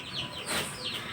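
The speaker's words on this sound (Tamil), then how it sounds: "எங்கள் வீட்டு கோழி மிட் நைட்டில் மேய்து." Backyard village chicken foraging at midnight, giving faint repeated clucks and chirps over a soft hissing background.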